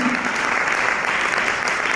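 Loud, dense applause from an audience at a Safe Shop gathering, steady and sustained throughout with no break.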